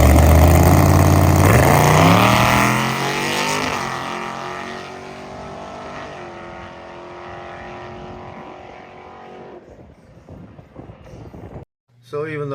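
A drag race car on a qualifying run, with a Da Vinci carburetor, MSD distributor and coil and a 7AL-2 box, roars loudly through rising gear pulls, then fades into the distance before a sudden cutoff.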